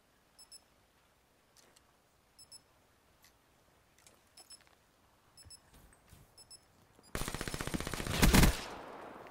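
Gunfire in a tactical shooter video game, scattered single shots and beeping early on, then a loud rapid automatic burst near the end.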